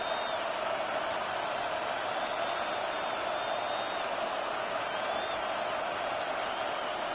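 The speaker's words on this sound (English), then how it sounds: "The crowd cranking it up another notch before third and long" Steady stadium crowd roar from a Madden NFL video game broadcast builds as a broad, unbroken wash of noise before a third-and-long play, with no clear speech over it.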